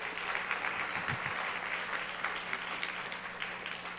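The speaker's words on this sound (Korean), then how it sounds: "우리 박수로 한번 환영하죠" Applause welcoming a speaker at a church testimony service by Pastor Lee Hee-young: steady, even clapping from a congregation, continuous and moderately loud for the whole stretch.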